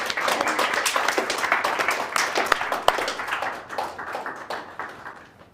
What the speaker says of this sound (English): And a big round of applause, seriously.